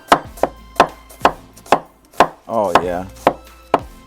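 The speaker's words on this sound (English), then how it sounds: "let's go ahead and cut some onion" A knife chops an onion on a cutting board with about ten sharp, evenly spaced strikes close by, and someone briefly speaks between the cuts.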